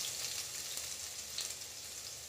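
Finely chopped garlic hitting a preheated pan with a steady, faint sizzle and crackle throughout, with no talking.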